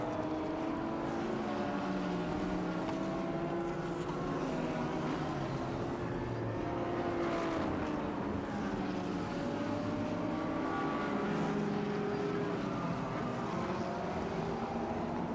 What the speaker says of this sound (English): On board with that 555 Ferrari